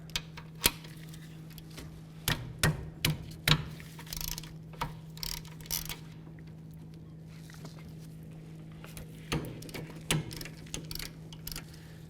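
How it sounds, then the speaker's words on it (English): Socket and ratchet working on 19mm caliper bracket bolts of a 2007-2012 Nissan Altima rear brake, giving scattered sharp clicks and short bursts of ratcheting close by, separated by quiet pauses. "So we're going to use a socket and a ratchet to do so"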